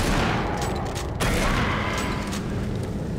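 Dense, loud gunfire and combat noise in the video game Doom 3, with shotgun blasts among sustained bursts of shooting and mechanical clatter, with no voices.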